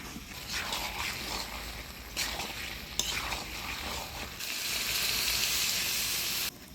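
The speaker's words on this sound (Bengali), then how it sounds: "এবার অল্প জল দিই।" Water splashes into a hot pan of chicken curry with potatoes, giving a quiet clatter and bursts of hiss before a louder, steady sizzle that cuts off abruptly near the end.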